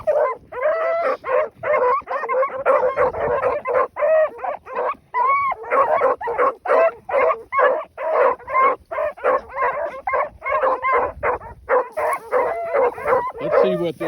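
Pack of hunting dogs baying and yelping continuously in a steady run of overlapping barks and howls while tracking a rabbit inside an enclosure, loud and close, with no talk over them.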